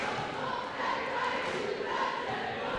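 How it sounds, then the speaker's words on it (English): Crowd noise from a high school basketball game, Langley at Washington-Lee, with a steady broad roar of cheering voices filling the gym throughout, no clear breaks. "Crowd is into it."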